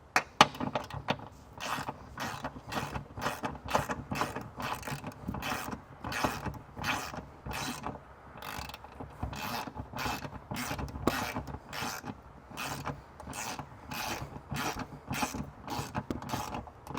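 A hand ratchet clicks in quick, regular bursts as a bolt holding a ring terminal is tightened on a 2024 Ford Bronco, close and clear with no talking.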